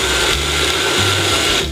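A Jelly Belly slushie maker toy runs after being switched on, its small motor giving a loud, steady grinding whir close up. No voices are heard.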